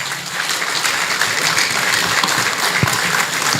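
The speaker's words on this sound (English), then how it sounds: "I think he deserves another round of applause." A lecture hall audience at a university inaugural lecture breaks into sustained, dense applause, loud and even throughout, with a single low thump near the end.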